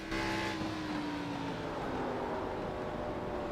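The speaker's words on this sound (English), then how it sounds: "just, the tires screaming" Race car tires screaming through a corner in a USA oval racing video game, a continuous loud engine drone with rising pitched squeal held throughout, no talking.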